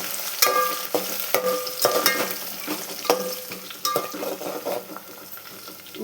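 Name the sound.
onions and mint frying in a pan for village-style chicken curry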